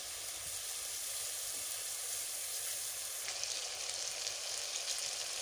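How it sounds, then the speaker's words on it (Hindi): Capsicum frying in a pan over medium heat for chicken macaroni, a steady, close sizzle that holds at an even level throughout with no voices. "ये अच्छे से फ्राई हो गया है"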